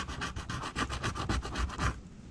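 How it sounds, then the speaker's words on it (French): A fingernail scrapes flaking paint off the bodywork of a quad bike in a rapid series of short, close rasping strokes that stop near the end. "avec l'ongle, je peux gratter toute la peinture"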